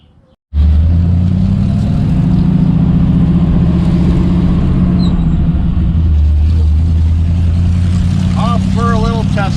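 A 1936 Hudson Terraplane with a hot-rodded Ford flathead engine bursts into a loud, close, steady rumble that holds for the rest of the stretch, with a few faint voices in the background.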